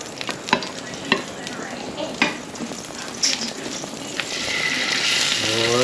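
Vegetables frying in a pan at a campsite on K'gari (Fraser Island): a steady, close sizzle with occasional clinks of stirring. The hiss swells louder toward the end.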